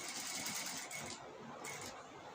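A sewing machine stitches a cross-cut blouse with a fast, steady whir that pauses briefly partway and then resumes, quiet and close, with no talk over it.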